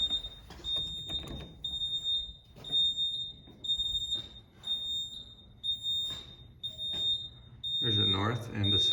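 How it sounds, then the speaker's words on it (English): Sharp, high electronic beeps repeat at a steady, insistent pace near a ThyssenKrupp hydraulic elevator in Denver while people talk nearby; a louder rumble swells near the end. "That is an obnoxious beeping."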